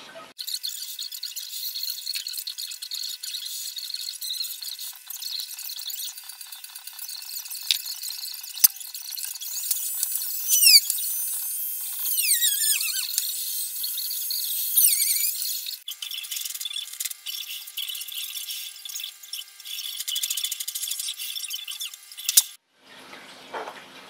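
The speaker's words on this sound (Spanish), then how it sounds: "Entonces es atravesar un poco dándole un previo, y luego pondríamos el tornillo y ya estaría." A small power drill whines steadily while boring a pilot hole and driving a screw into a support for an aquarium air pump, a high-pitched motor sound that rises and falls across several passes before stopping abruptly.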